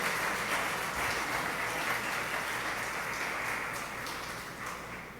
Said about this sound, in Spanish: ¿Cuántos le agradecen al Señor dándole una ofrenda de palmas a nuestro Dios?